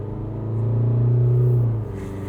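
A 2024 Isuzu MU-X with its smaller engine and traction control switched off launches from a standstill with slight wheel slip. A loud, steady low engine drone swells, holds for about a second, then eases back.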